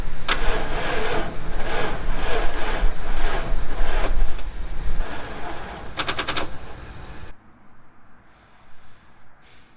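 A farm truck engine cranks on a weak battery: a loud, rapid, chugging starter rhythm that labors for several seconds without catching, then cuts out, leaving quieter background noise.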